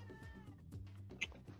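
A cat meows softly in a short run of quick little calls, faint and close, with no other sound.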